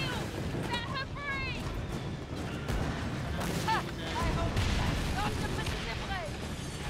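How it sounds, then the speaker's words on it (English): Naval cannon fire and explosions from the pirate ship combat game Skull and Bones rumble steadily beneath ongoing chatter, with repeated booming blasts and whistling effects layered through a dense battle mix. "Maganda din yung mga explosion."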